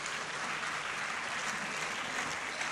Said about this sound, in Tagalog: Bigyan natin ng malakas na palakpak ang ating pong dakilang Panginoon.